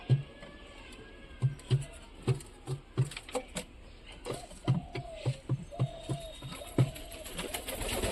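Pigeons cooing nearby, repeated low rounded coos in an irregular rhythm, with some soft wing flutters and light patter in a quiet indoor or yard setting, no one speaking.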